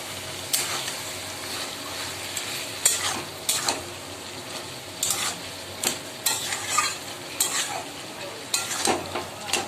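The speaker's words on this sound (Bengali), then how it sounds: "অল্প একটু জল দিয়ে আবারও কষাবো" Ash gourd leaves sautéing in oil in a pan, with a steady sizzle broken by repeated scraping strokes of a spatula against the metal, close and fairly loud, no talking.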